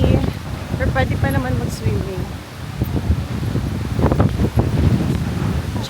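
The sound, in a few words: wind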